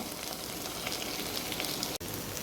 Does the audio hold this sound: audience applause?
no